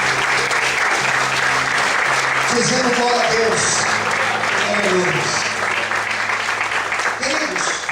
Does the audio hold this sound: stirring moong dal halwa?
no